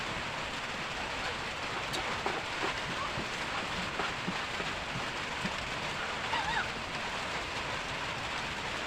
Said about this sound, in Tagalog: Umuulan dito sa amin lord.